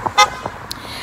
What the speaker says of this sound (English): I don't know why that guy just honked his horn at me.